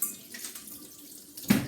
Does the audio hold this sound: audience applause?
no